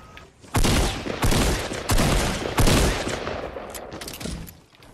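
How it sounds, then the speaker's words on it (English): Gunfire from the video game Fortnite: four loud, heavy bursts of shots in close succession, each ringing out with a broad decaying tail, then quieter shooting trailing off at the end. "I'm getting shot at from another angle."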